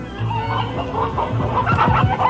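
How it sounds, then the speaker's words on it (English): Several chickens cluck busily and close by at feeding time, a continuous chorus of overlapping clucks with no talking. "the now famous feeding of the chickens"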